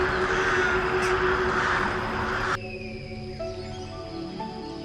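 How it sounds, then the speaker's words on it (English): A Congo rainforest bird gives repeated loud, harsh caws against dense forest ambience, then the calls stop abruptly and only quieter background sounds remain. "This bird often gathers in groups and communicates with complex calls"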